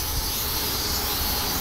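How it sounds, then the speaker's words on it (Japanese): Cicadas drone in a continuous, even hiss outdoors in the morning, a steady high buzz with no pauses throughout the short stretch. "めっちゃセミが鳴いてますね。"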